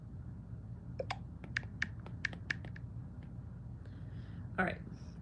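Keys tapped on a computer keyboard in a short, uneven burst of a dozen or so crisp clicks, followed by a brief louder clatter, with a low steady background hum underneath.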